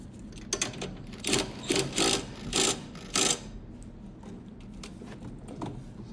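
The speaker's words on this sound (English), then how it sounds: "I will hit it with the impact" Impact wrench tightening the 1-inch nuts on mower blades of a Hustler Surfer X, several short rattling bursts in quick succession, close, then a fainter blip later.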